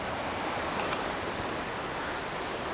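Fast-flowing river water in a winter flood in the Peaks, heard as a steady, dense broadband rush that holds constant and fairly loud throughout, with no voices over it.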